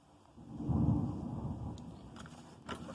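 Thunder from a dangerous thunderstorm rumbles low and heavy, swelling then fading, followed by a few sharp crackles, heard indoors without talk.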